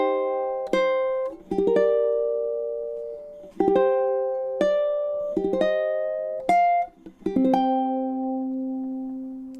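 Ukulele playing the closing measures of a chord-melody arrangement of Sakura, from measure 16 to the end: slow plucked chords and melody notes, close and clean, finishing on a high chord left to ring out.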